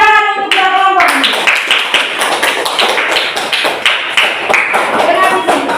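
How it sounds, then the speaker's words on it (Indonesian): Classroom group clapping for two student groups at an Indonesian church lesson, after a brief tone at the start: loud, close, rhythmic applause in steady unison beats, repeating for several seconds with no talk over it. "Tepuk tangan untuk dua kelompok ini."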